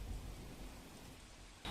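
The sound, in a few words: rain falling in Naranpura, Ahmedabad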